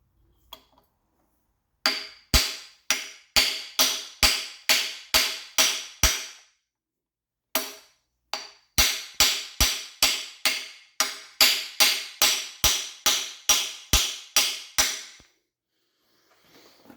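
Sharp metallic hammer blows driving a socket into place during a Triumph TR6 engine rebuild, in two rapid, evenly spaced runs of about a dozen strikes each, separated by a short pause, loud and close.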